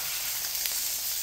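A pan-seared grouper fillet sizzling in a hot pan just after being flipped, a steady loud close hiss of frying with no break.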